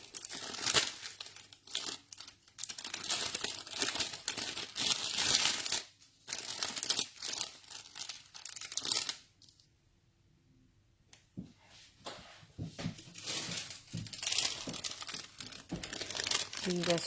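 Leftover trimmed strips of white paper being rummaged through and handled, with repeated crinkling, rustling and crumpling close by in bursts, a short quiet gap partway through, and a voice talking at times over the handling.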